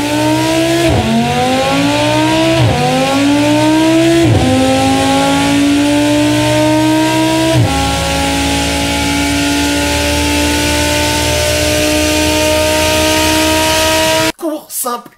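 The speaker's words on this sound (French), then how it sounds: "Court, simple, efficace, le V10 Atmo, du son moteur." Audi V10 naturally aspirated engine revs hard through several upshifts, each climb in pitch broken by a brief dip before rising again, loud and close with no voices, ending abruptly in a short quieter tail.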